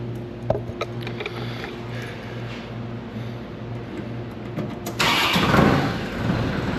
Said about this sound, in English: so now we're going to have to start tractor.